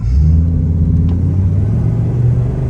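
A Ford F250 pickup's V10 engine, fitted with new headers and injectors, roars with a deep, steady rumble as it accelerates hard at full throttle, loud and close throughout.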